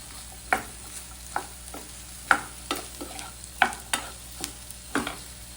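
Okra frying in a pan with spices, stirred in a steady series of sharp scraping clicks over a soft continuous sizzle, close and fairly quiet, with no voices.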